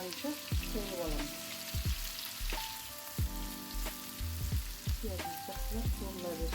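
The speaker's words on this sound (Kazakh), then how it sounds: "Пиязымыз жақсылап қуырыла берсін." Onions frying in rendered sheep tail fat with added oil, a steady close sizzle and crackle broken by repeated scraping stirs of a spoon against the pan.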